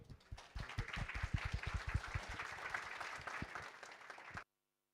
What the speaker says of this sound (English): let's give applause to the 3 guests today